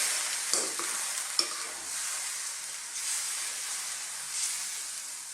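Ground beef stirred with beef stock in a pan for ginisang upo, with a constant soft sizzle and hiss of simmering liquid and a few light clinks of the spoon against the pan.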